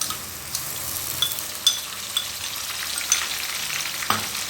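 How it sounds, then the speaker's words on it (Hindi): Ginger-garlic paste frying in hot oil with golden-brown onions, a steady sizzle with crackling pops and occasional stirring scrapes, close and continuous with no talking. "और 1 मिनट तक इसे फ्राई करेंगे।"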